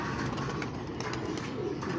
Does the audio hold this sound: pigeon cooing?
yes